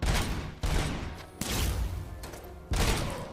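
Heavy gunfire in the RoboCop video game, loud, dense bursts filling the space, with brief gaps between three or four sustained volleys.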